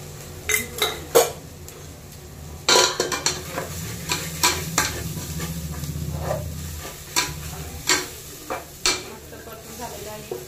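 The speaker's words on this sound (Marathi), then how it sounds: "आता आपण याच्यामध्ये वाटीत काढलेले गरम मसाले सोडून देऊ." A spoon stirs and scrapes garam masala, turmeric and coriander powder sizzling in a metal pan for misal, with sharp clinks against the pan over a steady frying hiss.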